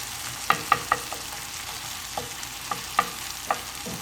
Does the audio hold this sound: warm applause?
no